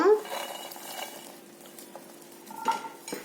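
Cumin and fried garlic cloves being stirred together for a mango pickle, a spoon clinking and scraping against the vessel in short, soft strokes with a faint sizzle underneath.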